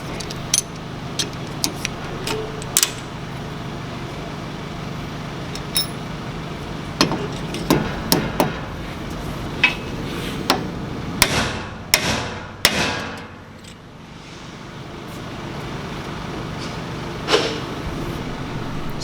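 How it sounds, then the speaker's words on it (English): A 4-pound hammer drives new valve seats into a 292 engine head, with sharp metallic blows at irregular intervals and a quick cluster of strikes near the middle, loud and close in a quiet shop. "So I use a 4-pound hammer and it goes in pretty quick."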